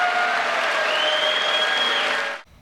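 Applause in a legislative chamber during a Trump speech, a thick, steady roar of many hands with faint crowd noise, cutting off abruptly near the end.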